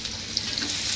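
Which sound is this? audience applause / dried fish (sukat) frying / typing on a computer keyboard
dried fish (sukat) frying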